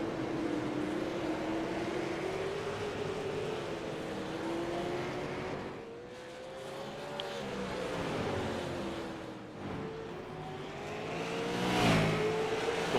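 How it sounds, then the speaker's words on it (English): Super late model race cars roar around the Slinger quarter-mile oval, a loud continuous engine drone rising and falling in pitch as cars circle and pass, with louder swells near the end. "when you race at a quarter-mile racetrack with these super late models"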